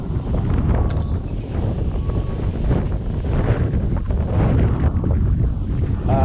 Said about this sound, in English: It's windy as piss today